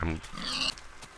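A Minecraft pig gives a short oink-like grunt, brief and close, with a voice talking over it.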